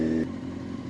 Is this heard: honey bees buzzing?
no